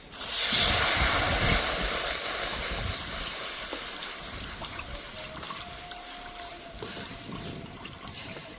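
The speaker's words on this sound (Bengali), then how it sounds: "কড়াইতে দিয়ে দেবো জল।" Water poured into a hot wok, a loud burst of hissing steam that settles into a long, steady hiss and bubbling, close up with no voices.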